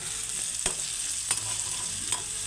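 Okra masala frying in a pan for Punjabi-style curry, a constant close sizzle with three sharp spatula knocks spaced about a second apart, no voices.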